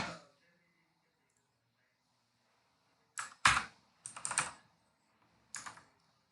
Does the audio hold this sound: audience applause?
no